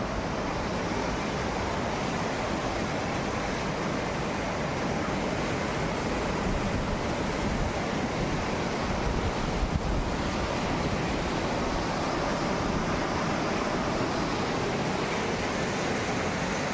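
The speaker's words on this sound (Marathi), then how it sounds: "उर्वी नदीला पूर आला बघा पूर" Water rushes in a loud, continuous roar from a flooded village river at a bridge, steady and close throughout, with wind buffeting the microphone.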